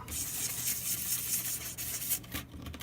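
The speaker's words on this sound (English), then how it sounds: "It doesn't need a lot, just light sanding." Steady, close scratchy rubbing that continues without a break, light strokes of fine-grit sandpaper over a 1:24 scale model car part.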